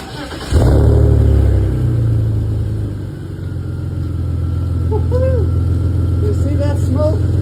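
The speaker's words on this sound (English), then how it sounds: "Now let's check the sound of our new exhaust." A BMW E39 with a newly fitted Dinan exhaust, originally an E46 part, fires up and settles into a loud, steady idle with a deep low rumble, while voices speak briefly over it.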